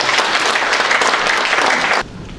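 An audience claps to welcome a speaker at a Korean forum event. The steady, dense applause fills the room for about two seconds, then cuts off abruptly.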